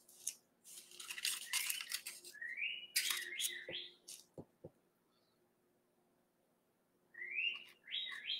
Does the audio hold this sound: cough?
no